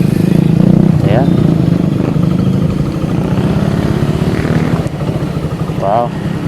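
Big Rusi motorcycle idling up close with a steady, throbbing mid-pitched engine rumble that runs the whole time, while people talk over it.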